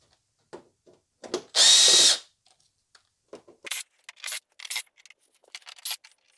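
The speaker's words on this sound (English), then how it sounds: "we will undo these screws and see if this back comes off nicely" A power drill unscrews the back panel of a salvaged 4K LG TV, with one loud sustained whir followed by several short bursts amid small clicks and handling noises, close by and without talk.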